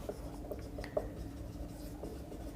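Faint, soft scratching of points being written on a board during a chemistry lesson on cubic unit cells, a few brief strokes over quiet room tone with no speech.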